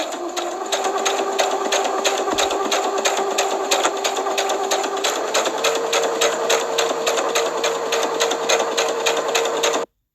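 A sewing machine stitches fabric in a fast, even mechanical whir with rapid ticking, loud and close, running steadily for about ten seconds before stopping abruptly.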